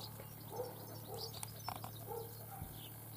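Faint, distant chirps and calls from a large flock of birds gathering on wires before rain, with some soft cooing, over a quiet outdoor background.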